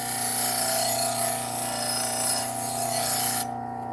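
Knife blade pressed against a spinning leather wheel loaded with polishing compound to strip off the burr, a loud steady rasping hiss over motor hum that cuts off sharply near the end.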